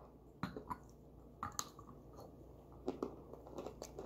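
Crunchy cassava starch roquetes are chewed close up, with a few sharp crisp bites followed by softer, irregular crunching, quiet and with no talking.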